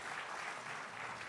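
Audience applause at an education summit, a steady dense wash of clapping filling the short stretch without a break.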